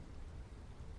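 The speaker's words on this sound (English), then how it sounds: "It was raining hard now." Heavy rain pours steadily in the woods, a dense, continuous hiss and patter without breaks or distinct drops.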